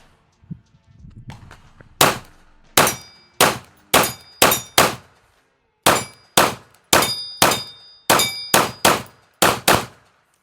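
Palmetto State Armory Dagger Micro C-1 pistol firing about thirteen sharp, loud shots in quick strings, each a crisp crack with short ringing decay and brief pauses between groups, after some faint handling noise.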